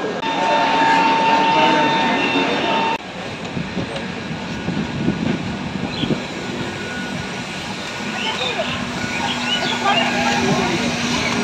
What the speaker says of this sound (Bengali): আমাদের ট্রেন এখন এসে পৌঁছালো দুর্গাপুর স্টেশনে